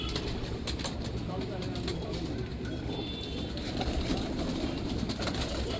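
Pigeons in a loft coo in a low, steady murmur with occasional wing flutters, a little faint and distant, with a voice talking partway through.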